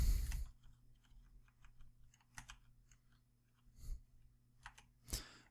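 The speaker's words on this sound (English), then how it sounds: "I'm just totally pressing buttons on my keyboard right now." Computer keyboard buttons pressed during a Dwarf Fortress game, a scatter of soft, irregular clicks and taps with a louder cluster at the start and end, close and fairly quiet, no talk.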